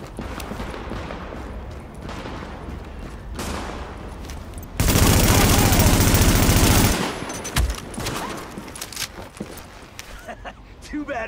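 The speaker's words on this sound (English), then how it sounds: "Warning, supplies taking fire." Gunfire in Tom Clancy's The Division, rising to a loud, sustained burst of automatic fire that stands out over scattered background shots and game voices, then dropping back to sporadic cracks.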